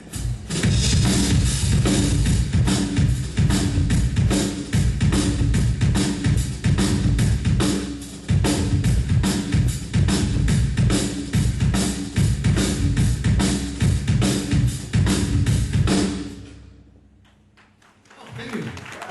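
Full drum kit playing a driving hard-rock groove, loud and continuous with dense cymbals, snare and kick, live at a drum clinic. It stops near the end, then faint crowd noise follows.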